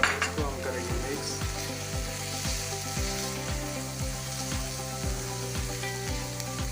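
Ajwain and spices mixed and frying in a pan for potato parathas: a steady bright sizzle of hot oil with regular scraping strokes of a spoon against the pan, close up.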